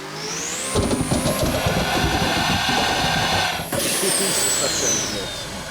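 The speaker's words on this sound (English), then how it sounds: "I don't know if that's like a turbo sound, but it has the jet engine sound" A jet-like engine whine from the Tim Burton Batmobile mod in the racing game Assetto Corsa, a steady loud roar with rising high-pitched whistles and a brief dip midway, continuous throughout.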